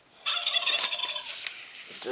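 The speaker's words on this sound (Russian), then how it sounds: "Индюк." A turkey gobbles in a loud, rapid, warbling burst, close by, followed by a brief clucking rattle at the end.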